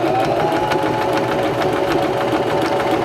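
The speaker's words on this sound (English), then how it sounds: "this will sew the right side of our buttonhole" A Singer Start sewing machine stitches one side of a buttonhole, its motor and needle running in a steady, loud, close-up whir with no pause.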